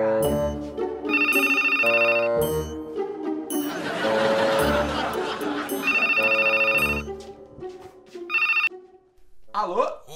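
A telephone bell rings loudly in repeated bursts at a steady rhythm, with a burst of noisy clatter in the middle and a voice briefly at the end.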